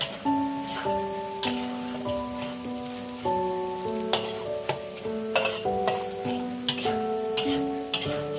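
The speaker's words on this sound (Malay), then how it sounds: "kacau sampai daging masak" Minced meat stirred and frying in a pan for spaghetti bolognese: continuous crackling sizzle with repeated sharp spatula knocks and scrapes against the pan, close and clear over a soft tonal background, with no talking.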